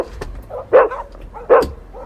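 A dog barks twice in short, sharp bursts spaced well apart, fairly close, with a few softer yelps between them and no talking.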